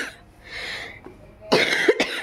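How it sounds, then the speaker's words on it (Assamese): Someone at home coughs on a family Laxmi Puja day: a few hoarse, rough coughs, close and fairly loud, after a quieter stretch of faint rustling room sound. "পটককৈ কাহটোৱে ধৰিলে"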